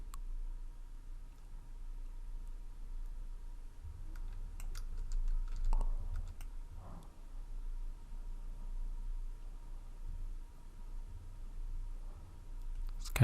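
Computer keyboard arrow keys are tapped to nudge objects on screen, producing faint, scattered, light clicks over a steady low hum.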